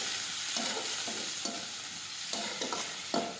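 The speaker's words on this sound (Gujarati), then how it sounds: "મેથીની ભાજી સમારી છે તે નાખી દઈશું. હવે આ રીતે ફેરવી દઈશું." Chopped fenugreek leaves with a pinch of asafoetida are stirred in a pan, giving soft repeated scraping strokes over a low, continuous sizzle. The sound is quiet and close, with no talking.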